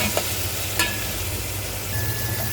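Chopped ginger and garlic fry in a pan, a dense, even sizzle with a couple of quick clicks from stirring, close and uninterrupted.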